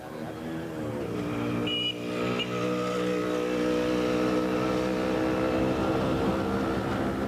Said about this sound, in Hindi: गाड़ी निकालो तुम सफो।